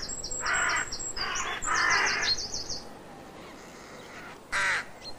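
A carrion crow gives a series of deep, hoarse caws in repeated bursts, fairly close and loud, then pauses before one more caw.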